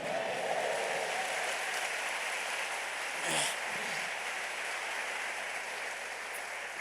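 A church congress audience applauds in a soft, distant, even patter of clapping that holds steady, broken by one short rustling burst partway through.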